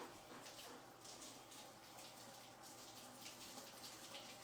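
Water runs from a kitchen tap as it is left to warm up, a soft, continuous splashing hiss that stays low and even throughout.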